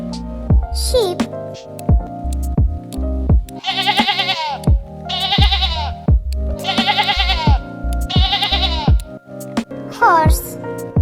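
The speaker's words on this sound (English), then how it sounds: "Sheep." Sheep give four loud, wavering bleats in quick succession in the middle, set against a rhythmic backing beat.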